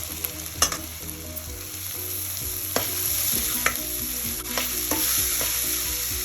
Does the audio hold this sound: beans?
yes